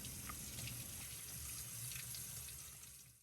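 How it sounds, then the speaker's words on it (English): Tap water runs steadily into a kitchen sink as fresh tomatoes are washed, a continuous close splashing hiss with no talking. "I began by gathering all the necessary ingredients and got to work right away by washing the tomatoes first."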